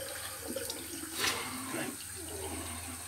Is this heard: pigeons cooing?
no